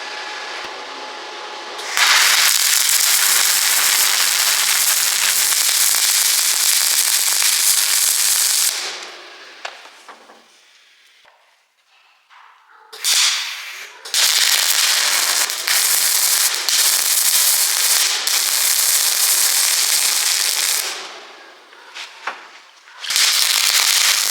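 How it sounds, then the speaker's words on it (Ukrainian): A Fronius MIG welder runs from a single-phase household socket, with loud, dense crackling and sizzling in three long bursts separated by quiet pauses. "Тільки Фроніус буде зварювати, якщо зварювати від однофазної розетки"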